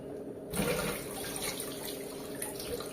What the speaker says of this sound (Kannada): ಈ ಥರ ನೀರು ತುಂಬಿಸ್ಕೊಂಡು